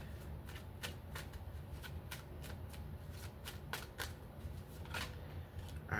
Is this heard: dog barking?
no